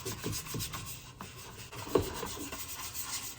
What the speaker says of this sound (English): We are just going to take some wax and just wax it up.